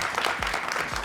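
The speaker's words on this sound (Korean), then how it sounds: "큰 박수로 위원장님을 무대 위로 모시도록 하겠습니다." Brief burst of audience applause at a regional development forum as a committee chairman is welcomed onto the stage, dense, continuous clapping with no pauses.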